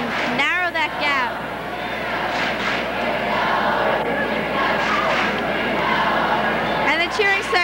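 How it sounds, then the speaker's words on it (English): Cheering sections at a Friday sports night yelling together to urge their team on, a dense roar of crowd voices with rising chants and shouts, broad and continuous throughout, with brief sharper vocal bursts near the start and end. "the cheering sections are trying to pull their groups together and urge them on to victory"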